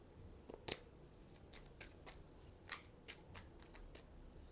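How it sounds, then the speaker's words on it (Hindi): Tarot cards being shuffled by hand during a love reading, a soft run of quick papery riffles and flicks with one sharper snap near the start, fairly faint and close, with no talk. "फिर से मैंने शफल किया"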